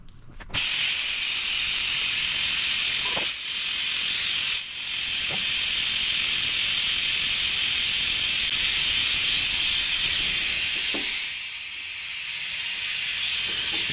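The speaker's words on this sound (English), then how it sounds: "We'll use our extractor to pull the fuel oil mix out of it." A fluid extractor draws a thin fuel and oil mix out of a lawn mower carburetor with a steady, close airy hiss, broken by a few brief dips and clicks.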